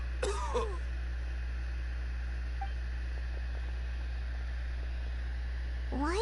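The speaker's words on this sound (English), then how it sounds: "Why is he coughing so much?" A character in Genshin Impact gives a short hoarse cough near the start and another at the end, with a quiet hum of game ambience between them.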